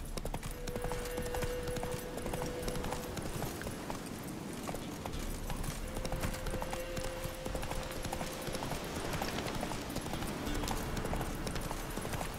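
The horse Roach from the video game The Witcher 3: Wild Hunt hooves along in a steady, continuous clip-clop rhythm, moderately close, set against a dense wash of ambient game sound.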